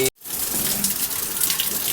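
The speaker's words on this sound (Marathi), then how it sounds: "मस्त पाऊस पडतो मित्रांनो आणि रात्रीपासून पाऊस चालू आहे" Monsoon rain falling steadily in the morning, a continuous dense wash of hiss and patter that briefly cuts out at the start and then carries on evenly.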